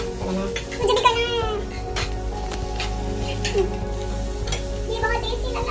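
Chow mein is stirred in a sizzling pan by a young home cook with her brother, giving repeated scrapes and clatter over a steady background hiss while children's voices chatter throughout.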